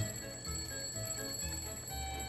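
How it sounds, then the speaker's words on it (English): An alarm clock ringing in Disney Dreamlight Valley, a steady, repeating electronic bell-like chime with a pulsing rhythm, heard alone and at moderate volume. "So it rang the alarm anyway."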